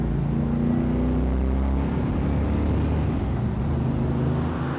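A 1967 Plymouth Barracuda Formula S cruising on the road, its engine droning in a low, steady rumble that wavers slightly as it drives, loud and close throughout.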